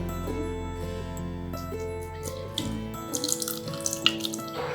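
Milk from soaked, ground green gram (mung beans) is squeezed and strained, giving steady trickling and splashing of liquid under background music, with a few louder splashes near the end.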